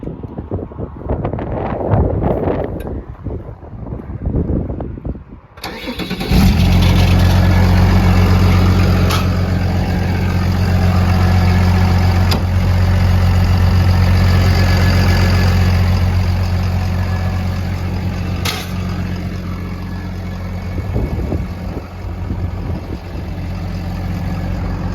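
A Case 850L XLT bulldozer with a rear winch fires up after some wind-buffeted speech, then its diesel engine settles into a loud, steady, deep idle rumble with wind noise over the microphone.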